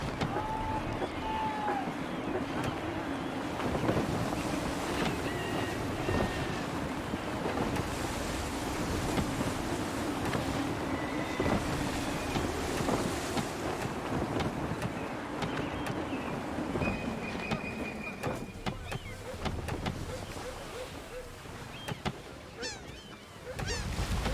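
Sailing ship in gusty wind in Assassin's Creed III: continuous broad rush of wind and surf around the hull, with creaks and faint cries over the steady roar throughout.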